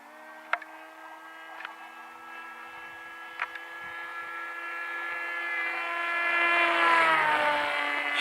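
An FT Versa Wing RC flying wing with an oversized electric motor whines steadily as it flies, the tone rising in loudness and then sweeping down in pitch as it speeds past close by, with a few light clicks early on.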